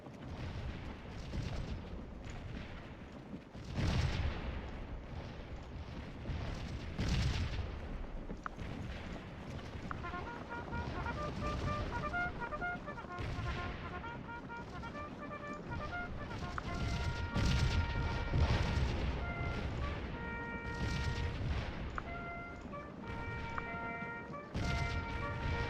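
Cannon fire from Civil War artillery in the Scourge of War battle game at Stones River: repeated deep booms, some close and some distant, rumble over a constant battlefield din with faint tonal music and someone talking now and then.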